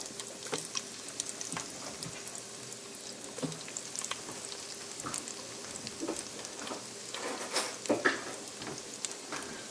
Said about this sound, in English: just tossing the cheese balls into the deep fat fryer